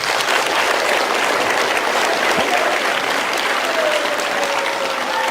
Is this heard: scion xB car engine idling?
no